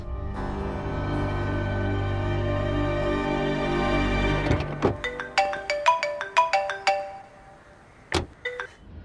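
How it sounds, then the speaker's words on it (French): A phone call ringing indoors as someone calls a contact, beginning under a sustained musical tone and then sounding as a series of bright electronic chime bursts in quick succession, with a final separate ring. "Je vais appeler Dev."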